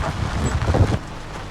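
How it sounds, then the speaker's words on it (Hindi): Strong wind roars steadily at the entrance to Sheela, a high-altitude mountain village in Skardu, Pakistan, buffeting the microphone as a loud, low rumble for about a second before it eases. "तेज़ हवा चल रही है"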